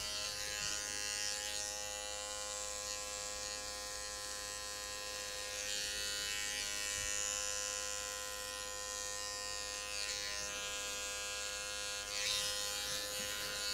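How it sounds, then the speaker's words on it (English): An electric trimmer buzzes steadily while shaving hair on the side of the neck during a barber's business haircut, a continuous close, even hum with slight shifts as the blades move across the skin. "what I'm doing on the side of the neck here is I'm just shaving in and I'm stopping right at the hairline."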